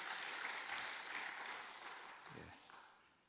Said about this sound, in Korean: 우리 한나여전도회를 위해서 다 같이 격려의 박수를 크게 하시겠습니다.